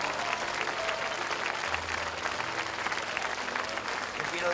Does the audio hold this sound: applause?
yes